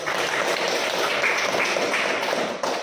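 Classmates applaud after a group presentation in a school classroom, brisk, fairly close clapping that stays steady and then tapers slightly at the end.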